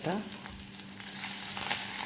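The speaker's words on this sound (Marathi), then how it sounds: "हा लसूण फोडणीसाठी टाकला आहे लसूण तडतडून येतो आहे" Garlic crackles and sizzles steadily in hot oil as tempering for a sweet corn usal, a close, continuous frying hiss with sharp pops and no talking.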